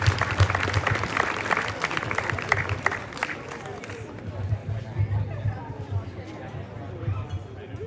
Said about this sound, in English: One more round of applause for your winter sports.